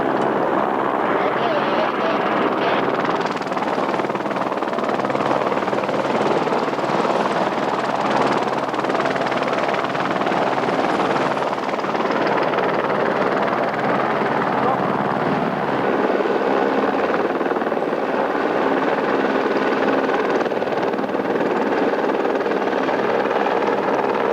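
A helicopter on an Anasazi expedition over Arizona keeps up a loud, continuous rotor and engine drone throughout, with a person talking over it.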